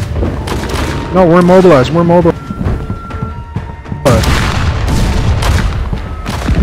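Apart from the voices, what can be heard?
cannon fire in a video game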